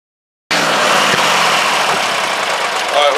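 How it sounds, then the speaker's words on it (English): A lawnmower engine starts abruptly after a moment of silence and runs at a loud, steady idle close by, with a rough mechanical rattle throughout. "What's going on with this lawnmower?"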